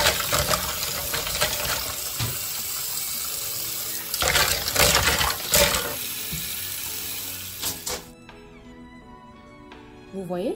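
A comb being rinsed under running tap water after disinfecting, a loud steady gush of water at a sink with a person talking over it, then the flow cuts off near the end, leaving quieter handling sounds.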